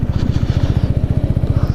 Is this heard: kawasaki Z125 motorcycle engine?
yes